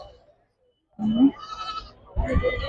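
Goats bleat nearby at a goat market, two wavering cries separated by a pause, with a brief low voice before them.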